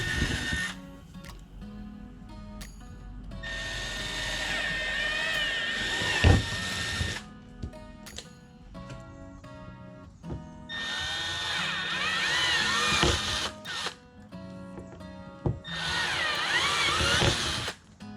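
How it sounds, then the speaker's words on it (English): A power drill bores a 7/32 inch hole while fitting a Hogworkz tour pack light, the motor whining in three long bursts separated by short pauses and clicks, close and fairly loud with no talking. "Now they want you to drill a"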